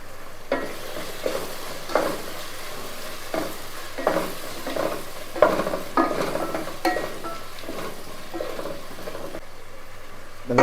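Carrots and beans, salted, sizzle in oil in a pan for veg kuska while a spoon stirs them, giving rhythmic scraping strokes about once a second over a steady frying hiss. No one speaks.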